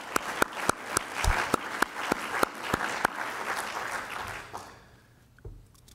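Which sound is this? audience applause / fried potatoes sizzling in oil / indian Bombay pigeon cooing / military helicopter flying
audience applause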